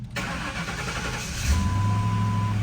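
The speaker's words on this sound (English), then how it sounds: "Key on, starting the engine." A car engine cranks and catches midway through the clip, then settles into a loud, steady idle that lasts to the end. An electronic tone sounds briefly over the idle and no one speaks.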